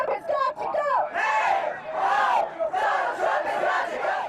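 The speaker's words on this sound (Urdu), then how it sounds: "انہوں نے ٹرمپ ہمارے صدر نہیں کے نعرے لگائے۔" Crowd of protesters chanting outside Trump Tower in Manhattan, New York, after the 2016 presidential election result; a loud, continuous massed chant of many voices with rising and falling rhythmic phrases, close and steady throughout.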